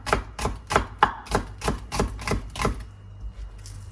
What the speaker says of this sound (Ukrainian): Я беру цибульку, нарізаю кружальцями біле,